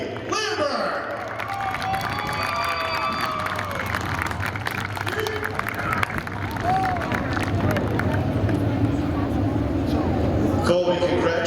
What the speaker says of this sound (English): Let's get a big round of applause for tonight's Sportsman feature winner, Colby Lambert.